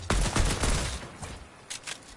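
A rapid burst of gunfire in Fortnite, several quick sharp shots close together, followed by a couple of fainter, more distant pops.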